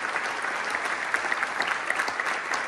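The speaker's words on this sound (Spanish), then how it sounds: "un aplauso para todos, que lo merecemos" Steady applause from a crowd at a celebration marking a cattle firm's 50th anniversary, dense even clapping held at a constant level throughout.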